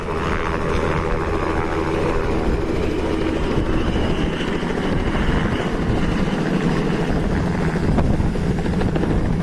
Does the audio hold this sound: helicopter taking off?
yes